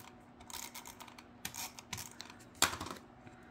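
A tape runner lays adhesive on a photo mat for a scrapbook page, giving quiet, close clicks and soft ticking rasps, with one sharper snap near the end. There is no talking.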